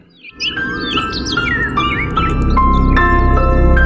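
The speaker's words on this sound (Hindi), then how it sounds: "उस गौरैया चिरैया की चहचहाहट," Lively sparrow chirps and tweets repeat in quick, varied bursts over a steady background rumble, fairly close and clear throughout.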